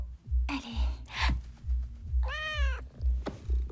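A house cat named Jane meows once, a rising harmonic cry, under a steady low rhythmic thumping music and a couple of short breathy sounds.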